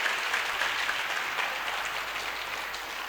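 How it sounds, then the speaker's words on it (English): A crowd at a training-program graduation ceremony applauds steadily for a few seconds, the dense clapping holding at an even, fairly loud level throughout. "Can you clap for yourselves, ladies and gentlemen?"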